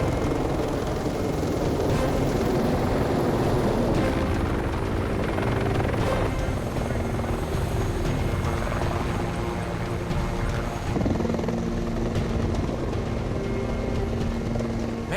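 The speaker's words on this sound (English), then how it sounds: "Here comes the chopper." Two helicopters come down to land on a highway during a roadside rescue, their rotor thrum loud and steady throughout, with a low wash of engine and wind noise underneath and no talk.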